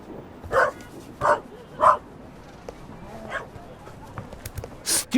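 Dog barking in The Raven video game, outside a museum: three sharp barks in a steady rhythm near the start, followed by quieter yips and whimpers with some faint game speech.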